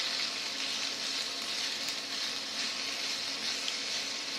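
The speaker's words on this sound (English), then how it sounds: "now give that a good stir" Turkey carnitas fajitas sizzle steadily in a hot pan while being stirred, a continuous close frying hiss with no talking.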